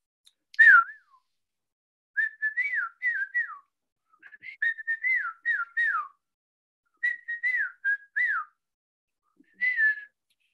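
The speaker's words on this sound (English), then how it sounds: "Shall I whistle it?" A person whistles a melody from a music track in short repeated phrases, clear and close, with brief pauses between bursts and no talking.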